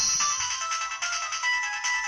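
A Mozart-style classical phone ringtone plays a bright, steady melodic phrase, clear and close, with no talk over it.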